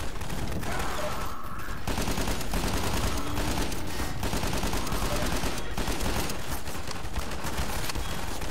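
Dense, continuous gunfire and chaotic combat noise fill a scene in the Half-Life mod Missing Information, loud and cluttered with overlapping shots and impacts throughout.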